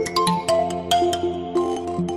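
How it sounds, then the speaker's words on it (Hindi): Synthesized phone ringtone for an incoming call, a bright looping electronic melody of short repeated tones with steady harmonic notes, clear and alone with no talk. "सबिता कुमारी, कोई आपको फोन कर रहा है।"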